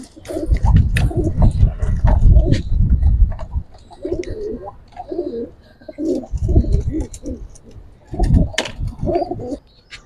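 A female tufani giribaz pigeon coos close by in low, throaty bursts, with other birds chirping faintly in the background.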